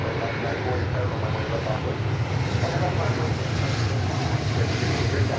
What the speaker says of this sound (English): We've got American Flight 2193 arriving from Tucson, Arizona. It's an Airbus